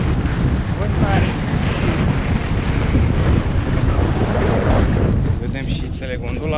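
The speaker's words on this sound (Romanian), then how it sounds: "Vânt mare." Strong gusting wind buffets the microphone on a mountain summit in whiteout conditions in the Baiului Mountains, a loud continuous roar filling the whole clip, with faint voices briefly near the end.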